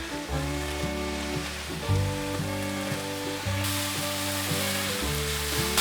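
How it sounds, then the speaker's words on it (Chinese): Steady frying sizzle as a vegetable filling of dried tofu, black fungus and shiitake is stir-fried with soy sauce, rose salt, sugar and white pepper, with continuous hiss under background music. "把调味料炒匀"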